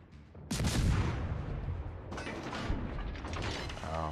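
Naval warfare video game ship guns fire in a heavy booming salvo followed by rumbling, rattling gunfire and mechanical clatter, with a further volley later, all loud and close.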